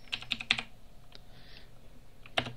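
Quiet, close typing on a computer keyboard: a quick cluster of several key clicks, a pause with a single tap, then one final firm keystroke, with no voice over it.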